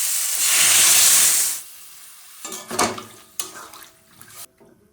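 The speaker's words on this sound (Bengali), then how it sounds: "এবার একটু জল দিয়ে সেদ্ধ করে নেব" Water hits a hot pan of frying potatoes and green banana, bursting into a loud, close steam hiss that fades after about a second. Scattered clinks and scrapes of stirring follow.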